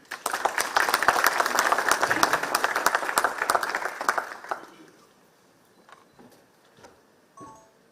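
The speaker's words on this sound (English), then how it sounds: "Please give them a big hand." A crowd applauds loudly with dense, steady clapping for several seconds, then it fades out, leaving a few scattered claps and quiet room noise.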